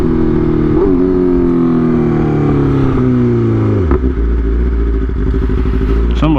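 Motorcycle engine held at high revs while riding a wheelie in a street race, a loud steady drone with pitch sliding downward, then dropping sharply near the end as the throttle eases.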